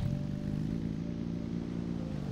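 Vehicle engine running in Scrap Mechanic, a steady, low, droning hum with an even buzzing tone that holds constant throughout, alone and fairly quiet.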